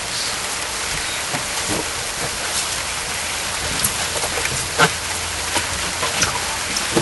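Rain falls hard and steadily over an outdoor wrestling match, a loud continuous hiss with scattered louder drops and spatters near the listener, and no talking heard.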